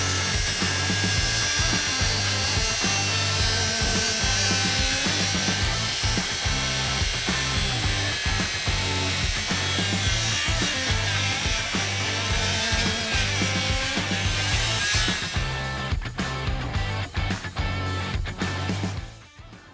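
A Milwaukee M18 FPS55 cordless plunge circular saw making its final pass through a panel, with a loud, sustained whining cut and rattling blade drone close by, ending with the motor winding down in the last few seconds and no voices.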